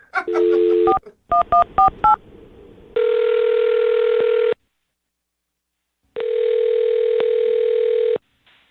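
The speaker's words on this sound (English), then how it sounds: "I'm going to dial the phone over right now, okay?" Telephone touch-tone dialing: a quick series of beeping keypad tones, followed by two long steady ringback tones with silence between them.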